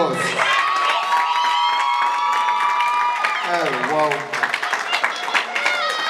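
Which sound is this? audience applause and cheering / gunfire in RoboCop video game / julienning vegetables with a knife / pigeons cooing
audience applause and cheering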